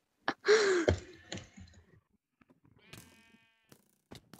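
Sheep bleats from a Minecraft-style block game, one prominent drawn-out bleat near the start followed by scattered clicks and short game sounds, fairly close and clear with no talking.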